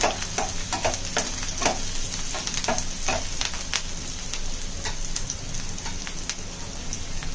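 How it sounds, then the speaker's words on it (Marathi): Chopped onion sizzles and crackles in hot oil in a pan while being fried for misal, a dense steady frying hiss with sharp popping spatters and occasional stirring, close and alone. "कांदा चांगला लालसर भाजून घेऊया."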